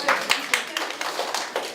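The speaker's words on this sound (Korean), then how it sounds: "박수 한번 드리겠습니다" A school admissions information session audience claps briefly, a handful of sharp, uneven hand claps close by in a short burst.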